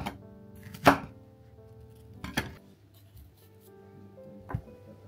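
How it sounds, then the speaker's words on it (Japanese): A knife cuts through an onion to trim the root and size the pieces, making three crisp, separate chops on a board in a quiet kitchen, the first one loudest. "根っこを取り除いてカップに入る大きさに切ります"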